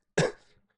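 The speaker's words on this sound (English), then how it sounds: "Taking a break because I have to cough" A single short, sharp cough, close and fairly loud, fading quickly into silence.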